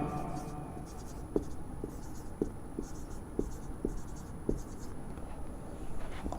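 Pen or pencil writing on paper in a quiet room, a series of soft scratchy strokes and taps spaced across the span, faint and close.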